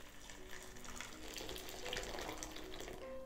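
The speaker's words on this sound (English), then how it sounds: "We then put boiling water 2 inches over the top of the pears." Steady rushing of boiling water pouring continuously into a slow cooker over pears from close by, a broad splashing wash with no talking.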